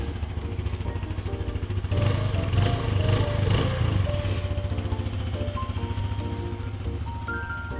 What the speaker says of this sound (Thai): เครื่องยนต์เดินนิ่งๆเลยนะครับ